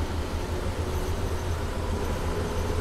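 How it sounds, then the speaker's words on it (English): Trains rumble through a busy station hub in the Transport Fever game, a continuous low mechanical drone with steady rolling noise and no talk. "So you've got passenger trains waiting"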